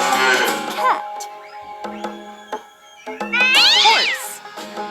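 Cartoon cat meows from a children's farm animal stacking game, one at the start and another drawn-out rising meow later, separated by light clicks and taps.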